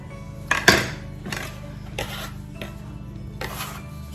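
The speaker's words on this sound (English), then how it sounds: "I'm just kind of like loosening up all of the edges where it was sticking to my board" Sourdough dough is being loosened from a board where it stuck, heard as several short scraping and rasping strokes at irregular intervals, close and fairly quiet, with a sharper clink near the start.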